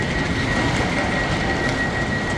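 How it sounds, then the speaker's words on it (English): A train rumbles at a railway station on the way to Manchester, with a steady low roll of wheels and carriages and a faint high squeal running throughout, close and continuous, with no speech. "we're going to do that using a train"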